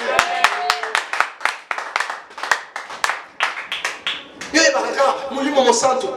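A church congregation claps in steady rhythm, sharp hand claps repeating close and loud. In the final seconds the clapping turns into voices raised in acclamation.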